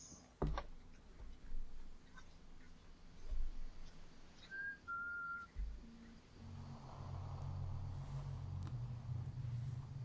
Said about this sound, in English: The sound of someone whistling is heard clear as day on camera.